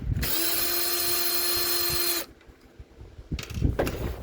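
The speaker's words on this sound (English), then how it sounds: "you might want to use a drill to make it a bit easier to do, to get to the back screws" A power drill whirs steadily for about two seconds while backing out cover screws, then cuts off, leaving clatter and handling noise followed by a brief second burst of the motor.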